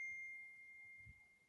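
A phone notification ding rings out as a single sustained tone that lingers faintly through a quiet room, with soft low rumbles beneath and no talking.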